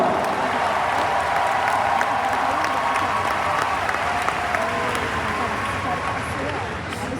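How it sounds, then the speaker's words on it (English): A convention audience welcoming delegates from the Philippines, Indonesia and Vietnam claps steadily and loudly, with cheers and crowd chatter mixed into the applause throughout. "Let's give them a round of applause to welcome all of them."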